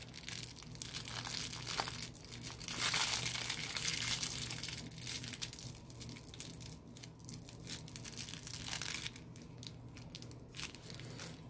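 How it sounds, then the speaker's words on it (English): A plastic piping bag being twisted and tied shut, giving continuous close crinkling and rustling that swells and fades over several seconds, with no voices. "all I do is twist it and then I tie the bag shut"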